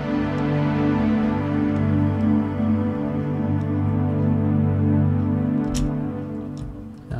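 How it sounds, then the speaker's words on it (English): A layered synth pad built from three pads in FL Studio, a sustained, rich, droning chord with slowly shifting texture, loud and steady, alone without talk. "So for example, you have a pad like this that's layered with 3 pads."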